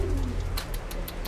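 A pigeon at a bird seller's gives a low cooing call, followed by a few sharp, rhythmic clicks or taps, over faint background noise.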